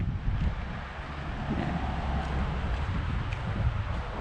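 Wind blows outdoors near a house, a low rumbling buffet across the microphone that rises and falls steadily with no talking.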